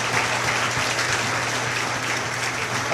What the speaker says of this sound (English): So please give all of them a nice big round of applause